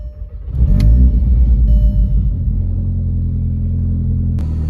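A VW Mk4 car engine starts up and settles into a high idle, a loud, close, steady low rumble with a brief rise in revs at first and no talking.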